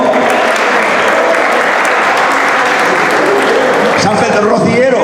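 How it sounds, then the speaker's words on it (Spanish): Audience applause on a radio broadcast, a steady wash of many hands clapping throughout, thinning near the end as a voice comes in over it. "Un aplauso y muchísimas enhorabuena."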